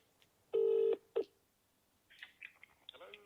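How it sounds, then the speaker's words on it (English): A phone call is placed: two loud, close tones sound, one long and one short, followed by quieter ringback and line noise, without talk. "I'm going to give them a call now"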